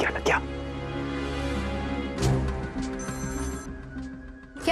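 A phone rings with a repeating electronic tone while people talk over it, close and moderately loud.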